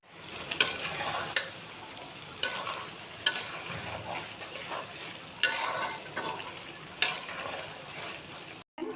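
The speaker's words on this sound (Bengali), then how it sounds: "এই যে তেলের উপরে আমি আলুগুলো একটু ভাজতেছি, পেঁয়াজ দিয়ে দিছি" Potatoes and onion fry in hot oil with a constant sizzle, while a utensil scrapes and stirs the pan in repeated sharp strokes.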